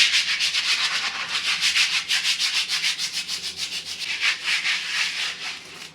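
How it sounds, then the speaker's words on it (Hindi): A broom scrubbing a bathroom floor coated with Harpic cleaner, a rapid rhythmic bristly rubbing that pulses back and forth steadily and close by, with no voices over it. "आज है ना मैं बाथरूम वॉश कर रही हूँ। तो ये देखो पूरा हार्पिक डाल दिया है मैंने।"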